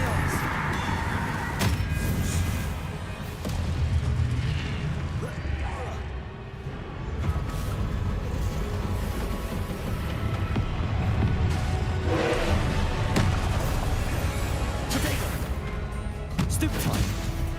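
Spell-casting effects from the Hogwarts Legacy video game during a duel, a continuous rumbling battle din with repeated booming impacts and bursts, some louder crashes near the start and end, under speech.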